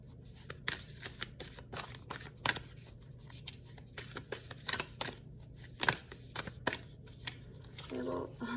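An oracle card deck is shuffled by hand, giving soft, repeated riffling and flicking taps in an uneven rhythm. The sound is quiet and close.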